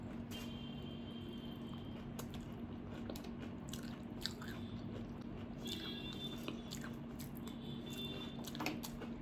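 Crunchy muri (puffed rice) snack is chewed up close, with quiet, repeated crisp bites and crackling mastication over a faint background hum.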